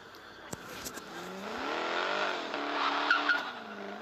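A Nissan car engine revving, one of several cars sounding together, rising and falling in pitch over a steady roar with a couple of sharp transients, fairly close.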